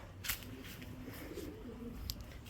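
Pigeons coo softly in a low repeated murmur in a backyard loft, with a few sharper bird calls cutting in near the start and toward the end.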